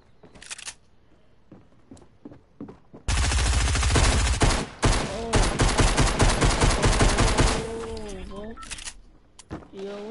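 Close, loud rapid gunfire from the blue shotgun in Fortnite, dense crackling shots dominating the middle of the clip between quieter game sounds, with a voice heard faintly around it.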